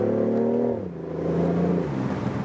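A BMW i8 Roadster's 1.5 liter turbo petrol engine revving, a strong harmonic engine note that holds, dips in pitch, then climbs again, close and loud with no talking.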